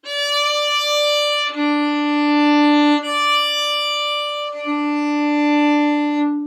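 Sustained bowed string tones, a high note held while a lower one comes and goes, blending cleanly and ringing, loud and close with no speech.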